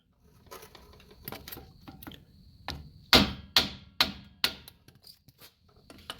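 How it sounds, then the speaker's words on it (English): Light tapping and shuffling build into several louder, sharp hammer knocks through a piece of wood on a Ram 2500 brake part in quick succession, then fade back to soft clicks; close by, no voices. "So I use this hammer, I use this piece of wood here"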